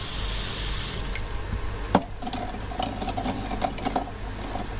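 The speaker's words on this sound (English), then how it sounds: "Just a bit of cold water on them because they're very hot." Cold tap water runs and splashes onto hot boiled eggs in a pan, a steady trickling gush with clinks and knocks over a low background hum.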